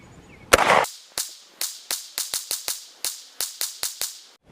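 Springfield Armory Hellcat pistol fired at a target 25 feet away, about thirteen sharp, loud reports in a quick irregular string, each ending in a short decay, with a brief noisy bump near the start.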